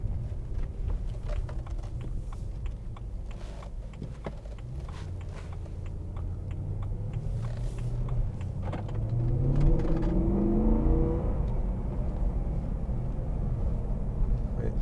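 A 2011 BMW M3 with a 4.0 V8 and dual-clutch gearbox accelerates on the road, its engine note rising steadily in pitch under continuous road and cabin noise.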